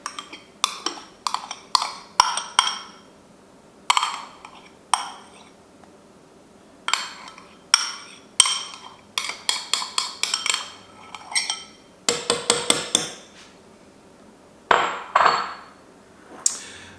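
A metal spoon clinks and taps against a bowl of protein powder topped with instant coffee, in quick irregular clusters of sharp, bright strikes separated by short pauses, close and fairly loud.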